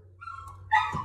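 A dog gives a short, close bark with a yelping, whiny edge, heard alone in a brief moment at home.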